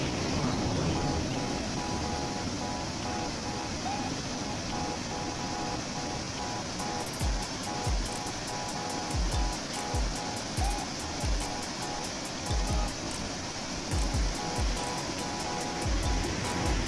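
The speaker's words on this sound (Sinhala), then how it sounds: "දැන් අපි ඉන්නේ ඇත්වැල්තොට කියන ප්‍රදේශයේ තවත් දොළපාරක් ළඟ" A shallow stream at Athweltota, Sri Lanka, rushes in a constant broad hiss at close range, steady throughout with faint thuds, and no talk over it.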